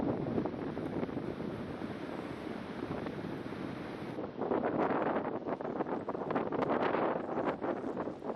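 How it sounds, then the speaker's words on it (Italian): Strong wind gusting along a beach near a lifeguard tower, roaring and buffeting the microphone continuously, with crashing surf blended in and growing louder in the second half. "Il vento soffia fortissimo"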